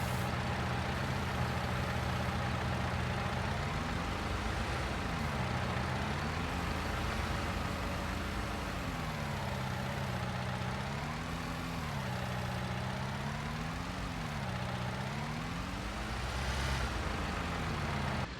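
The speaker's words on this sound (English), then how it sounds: "it takes a lot of dumps from the skid loader to fill it" A skid loader's heavy diesel engine in Farming Simulator 19 drones steadily for the whole stretch, its pitch repeatedly rising and falling as it revs while loading a large feeder wagon, loud and close with no talk.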